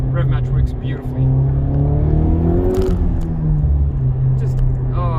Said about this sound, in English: Put it in third, put it in second. Rev match works beautifully.